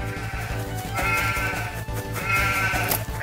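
A sheep bleats during shearing in a video game, with repeated wavering bleats heard loud and close over a steady, rhythmic game backing loop.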